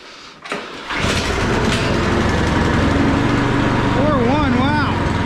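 Troy-Bilt snow blower engine catching on the first pull of the starter cord, a brief pull rasp then the small engine bursting into a loud, steady running roar, with a voice briefly over the rising engine.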